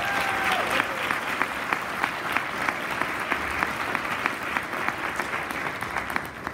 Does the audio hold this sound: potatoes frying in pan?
no